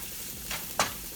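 Garlic, ginger and carrots sauté in sesame oil for fried rice, giving a faint, soft sizzle with two brief stirring scrapes close by.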